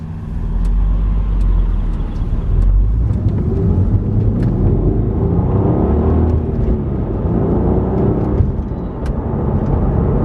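A three-door Audi A3 3.2 V6 with 240 brake horsepower drives along, its engine a steady loud rumble and whir with road noise that holds throughout, no talking over it.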